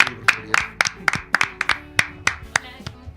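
Studio audience applause in a Chilean-style television talk show studio as a congresswoman guest is welcomed: a series of sharp, fairly loud claps at an uneven rhythm, about a dozen distinct hits over a few seconds.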